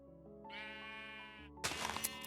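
Sheep in a Minecraft 1.20 wool farm give a clear, close bleat lasting about a second, followed by a burst of brighter game noises.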